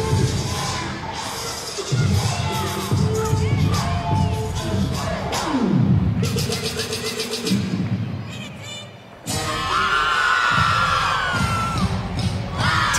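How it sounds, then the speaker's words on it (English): Teammates cheer, whoop and shout throughout a gymnast's floor routine, a busy crowd of young voices with bursts of yelling over a steady background din, briefly dipping before swelling again. "Teammates in the background cheering her on"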